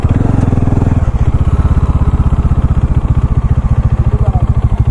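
Motorcycles being parked during a breakfast ride to Somasila, one engine idling loud and close with a rapid, even thumping pulse that carries on steadily after a brief throatier burst at the start.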